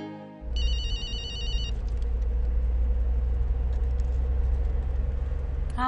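A telephone rings with a bright, repeating electronic trill for about a second before cutting off, heard over the steady low hum of a car engine.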